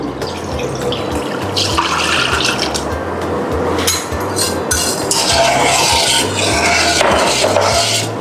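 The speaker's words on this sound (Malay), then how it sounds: "Kita masukkan air pandan." Pandan water pouring into a green agar-agar mixture, a continuous close splashing stream filling the container steadily for several seconds with no voices.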